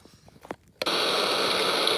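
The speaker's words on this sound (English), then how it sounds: "That was rain." An old RadioShack 63-975 sound machine plays its rain setting, starting abruptly after a few quiet clicks and becoming a steady, loud hiss of static-like patter.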